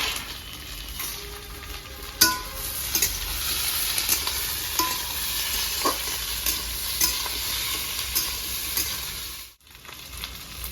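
Green chillies and small tomato pieces fry in a pan with a steady sizzle, and a spoon scrapes and stirs through them in irregular strokes, close and clear.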